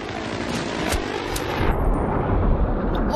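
A jet aircraft in the Battlefield 3 video game roars past in a loud, dense rush that drops away partway through, with a steady rumble continuing beneath it.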